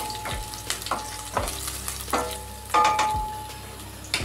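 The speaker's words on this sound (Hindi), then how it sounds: "जीरा के बाद हम डाल लेते हैं अपनी अदरक और हरी मिर्च। अब फ्राई करते हैं।" Ginger and green chili frying in hot oil after cumin, a steady close sizzle broken by several sharp scraping stirs of a spoon in the pan, with no talking.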